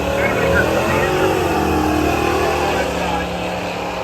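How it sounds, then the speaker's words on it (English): A 1967 Chevrolet Impala gasser drag car with a 427 engine roars steadily at Brainerd Motorsports Park, a loud continuous engine drone with a voice talking over it. "he added a 427 this year into the period correct gasser-ish look 67 Impala"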